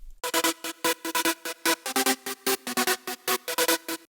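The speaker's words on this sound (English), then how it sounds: "the melody expands a bit by adding a perfect fifth on top of the main melody" A bright synth lead plays a bouncy, rhythmic melody doubled by a perfect fifth on top, each note short and punchy with clear gaps, heard alone.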